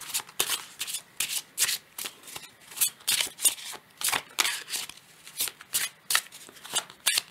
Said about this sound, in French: je vais prendre une carte de l'oracle Fontaine que je vais brasser un petit peu